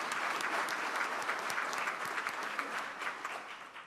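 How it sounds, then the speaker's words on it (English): An audience at a Rotary club meeting gives a dense, sustained round of clapping that tapers off toward the end. "let's have the big round of applause now"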